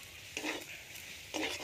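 Fried leafy greens stirred in a pan with a splash of raw mustard oil, giving a soft sizzle under two short bursts of scraping stirs, close and fairly quiet.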